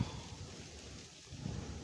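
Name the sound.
rain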